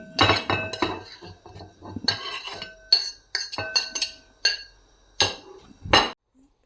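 Clinking and tapping of a fork against a plate while crushing cooled boiled potatoes, a series of sharp, close ceramic knocks in irregular rhythm with short pauses between, no talking.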